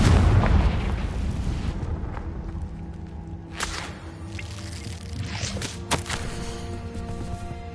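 A Confringo explosion spell in the video game Hogwarts Legacy, a heavy booming blast that decays into rumbling debris, followed by a few sharp cracking impacts over a dense game background.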